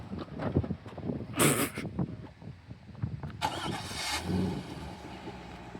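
A Chevrolet Corvette with a manual transmission pulls away from a stop, engine rumbling and revving irregularly at close range, with a couple of sharp noisy bursts.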